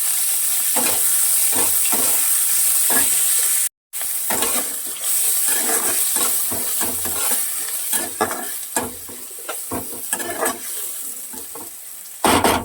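Chopped onion with whole cumin seeds frying in hot oil, a loud, close, continuous sizzle broken by rhythmic stirring scrapes and one brief dropout.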